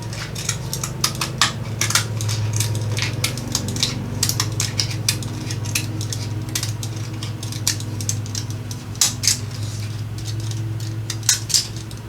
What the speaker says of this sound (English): Cut that off and then just start going around it.